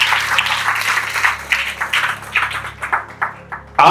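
Audience at a church sermon applauding, an uneven patter of claps in bursts that rise and fall over a few seconds, moderately close, with no talk.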